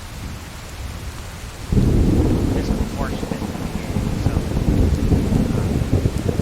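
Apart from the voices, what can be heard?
rain and thunder in the video game Testament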